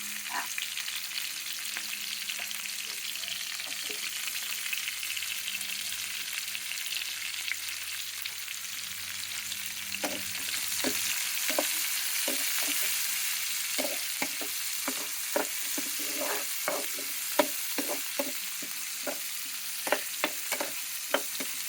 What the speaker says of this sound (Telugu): కరివేపాకు, పచ్చిమిర్చి, ఉల్లిపాయలు వేసి వేగనివ్వాలండి